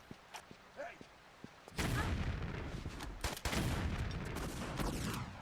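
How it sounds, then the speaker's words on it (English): Grenade blasts in the Tomb Raider 3 video game, a sharp heavy burst of explosion noise after a few small clicks, followed by sustained loud rumbling and a second blast. "Let's just poof this guy with a grenade."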